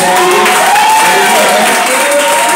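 A French-speaking church congregation applauds loudly in acclamation of Jesus, a dense wash of clapping mixed with raised voices for a few seconds.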